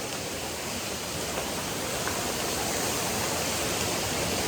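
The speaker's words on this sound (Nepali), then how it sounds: "झरना नजिकै क्लोजअपबाट पनि अब हेर्न सक्नुहुन्छ" Namaste waterfall near Itahari, Nepal, heard up close as a steady, dense hiss and roar of falling water, loud and unbroken with no voices.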